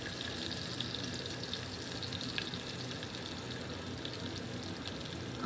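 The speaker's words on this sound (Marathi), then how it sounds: "सो आता मी कांदे टाकते इथे." Onions sizzle and fry steadily in a hot pan at home, a dense, even crackle that runs unbroken and close with small spits now and then, with no voices.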